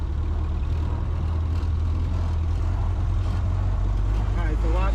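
A 1931 Ford Model A pulling away in first gear, its engine a steady, loud low-pitched drone with a rough mechanical rumble throughout, and faint voices beneath.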